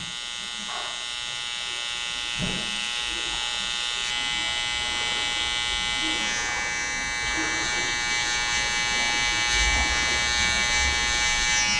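A small electric hair trimmer tidies the temples during a clipper-over-comb haircut, giving a close, steady high buzz that continues throughout with slight shifts in pitch.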